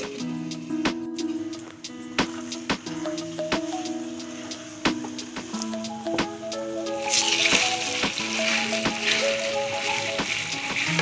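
Achari qeema, a spiced minced-meat dish, cooks covered in a pan. Steady tonal music plays throughout, and a soft sizzling hiss grows louder beneath it over the final few seconds.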